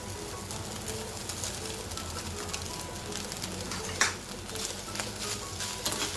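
Fried peanuts and grated coconut are stirred into cooked rice for chitranna, giving a soft, continuous scraping and rustling with faint sizzling, heard fairly quietly with a small clink midway.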